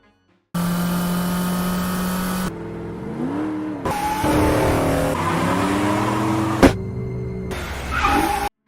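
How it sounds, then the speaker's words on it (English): A black Dodge Challenger sedan speeding away, its loud engine note rising and falling through several passes with brief tire squeals, heard alone with no talk. "they saw a black sedan, a Dodge Challenger, speeding away and looking like it was chasing them"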